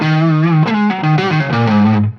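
A Les Paul guitar played through an inexpensive Amazon effects pedal with distortion, a short run of sustained, driven notes with compressed mids and a thick harmonic buzz that cuts off abruptly.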